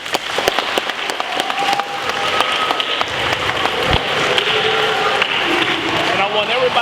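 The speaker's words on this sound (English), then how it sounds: "So give yourselves a round of applause." An audience applauds together after a talk, a dense, steady wash of many hands clapping close by that carries evenly to the end, with some voices mixed into the crowd.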